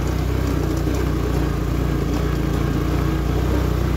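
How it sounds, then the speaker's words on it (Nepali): An off-road motorcycle engine drones steadily under load in first gear, a continuous low rumble with no change in pitch and no voices. "1 गियरमै चाहिँ तान्छ"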